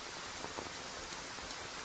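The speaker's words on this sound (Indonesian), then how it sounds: "Hujan deras banget" Heavy rain falls outdoors near a supermarket, a steady, soft hiss of drops hitting surfaces that carries evenly throughout with no voices.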